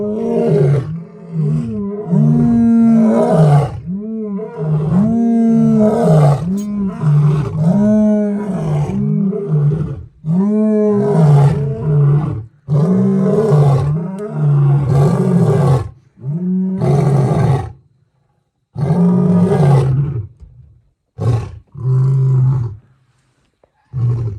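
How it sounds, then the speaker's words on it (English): Deep, powerful roars from three big male lions inside a camp in Africa repeat in long rhythmic bouts, several animals calling close by, each series trailing into grunting huffs with brief pauses between. "observing and watching these 3 big male lions inside our camp"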